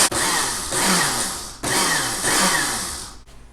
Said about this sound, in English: we're just going to simply grind this up until we have a flour type consistency